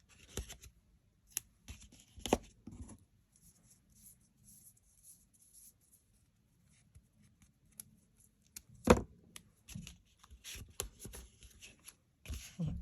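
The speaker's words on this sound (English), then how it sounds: "I'm going to put a little bit of tape on each of these just to hold them in place" Tape pulled and pressed onto cut paper pieces for a luggage-style gift box, giving scattered soft crackles, rips and taps at close range with quiet gaps between.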